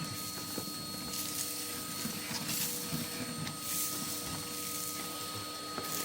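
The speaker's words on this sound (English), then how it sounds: "Going to hoover the ledge off now." A vacuum cleaner hoovers soot off a fireplace ledge while an open fire is swept, giving a steady whining motor drone with a wavering, scratchy suction hiss that holds throughout at moderate level.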